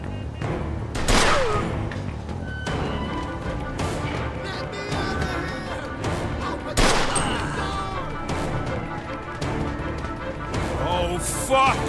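Gunfire in the Mafia II video game, with dense overlapping shots and booming impacts under loud continuous action noise, with occasional shouted voices.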